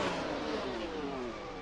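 An Alpine Formula 1 car engine at Silverstone in a sim-racing game, a steady high-pitched whine that slowly falls in pitch as it passes, fairly quiet, with no voices.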